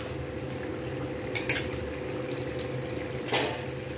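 Potatoes being sautéed in a pan for a spicy potato curry (alu mukhir lal jhal tarkari), a steady frying sizzle with a couple of brief scraping clinks of a spoon against the pan.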